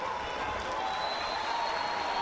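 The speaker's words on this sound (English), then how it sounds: "you can hear this crowd from the Garden supporters. They're standing in front of our commentary booth, and it is a standing ovation" Gardens rugby supporters rise in a standing ovation at a Gold Cup qualifier against Progress R.C., a steady wash of applause and crowd noise filling the ground right in front of the commentary booth.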